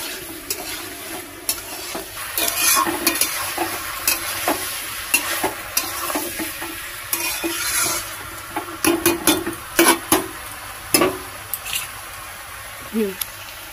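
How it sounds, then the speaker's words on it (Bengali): Potato and raw jackfruit with prawns being stirred and sautéed in a pan, a continuous sizzle broken by irregular scraping clicks and knocks of the spatula against the pan, close and fairly loud. "তো আমি এই যে অনেকক্ষণ ধরে ভালো করে কষিয়ে নেব, দেখতে থাকো।"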